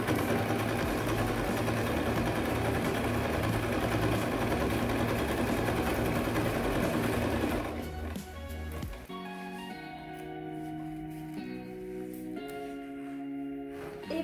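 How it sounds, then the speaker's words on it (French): A sewing machine runs zigzag stitching along the edges of a fabric pouch in a steady, continuous whir, then stops and gives way to quieter, irregular handling sounds. "vous mettez votre point zigzag pour surfiler"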